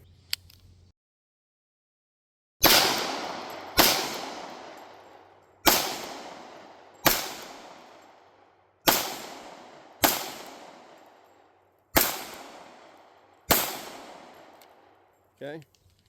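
Eight loud, close pistol shots from a Glock 21 Gen 5 and an SR1911 LW Commander, fired one at a time at uneven intervals of one to two seconds, each with a sharp crack and a decaying ring.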